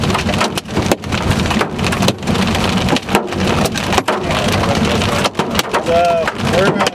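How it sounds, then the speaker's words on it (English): Baseball-sized hail from a Texas storm pounds a vehicle in a loud, dense, unbroken roar of impacts, with rumbles of thunder and brief voices mixed in. "Storm's got up to baseball-sized hail in it, if you can hear me. It's pretty loud in here right now."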